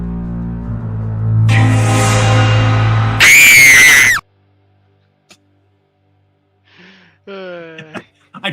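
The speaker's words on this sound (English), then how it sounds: "I tried to find a classic horror movie scream." Classic horror movie scream sound effect: a loud, shrill, wavering shriek lasting about a second, preceded by a rising electronic tone and followed by quiet and a few brief squeaky sounds.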